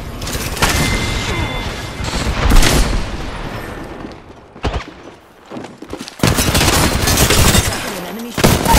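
Combat in Apex Legends with a frag grenade explosion among heavy gunfire, bursts of loud cracks and booms that stop briefly before another dense volley resumes.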